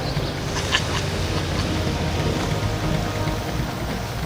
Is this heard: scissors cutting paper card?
no